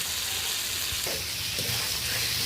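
Fried potatoes and vegetable stems sizzle steadily in a spice paste for a fish cumin curry, with a continuous close frying hiss and occasional stirring scrapes, no voices.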